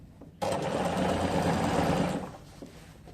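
A sewing machine stitches a bias strip onto a garment neckline, a steady close mechanical whir running for under two seconds before stopping.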